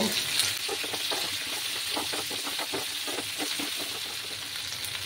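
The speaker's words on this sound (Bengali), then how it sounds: "লাল লাল করে আমি এঁচড়টাকে ভেজে নেব" Young jackfruit fries with salt in a pan for a Bengali vegetarian curry, giving a steady close sizzle with quick rhythmic stirring scrapes over a faint background hum.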